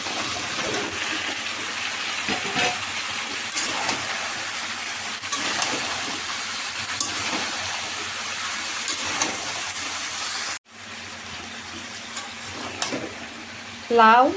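Bottle gourd pieces tipped into a pan and stir-fried with chicken gizzards and livers, giving a steady close sizzle with spoon scrapes throughout, a brief drop near the end, then louder frying.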